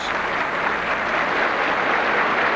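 Steady, dense applause from the assembled members of Brazil's Congress as the presidents of the Constituent Assembly and the Senate arrive to form the presiding table, a continuous clapping wash at even loudness throughout.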